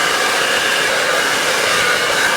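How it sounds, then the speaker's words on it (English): A hair dryer blows continuously during a professional blow dry, a steady loud airy whoosh with no talk. "you're bringing it forward while the blow dryer is going on"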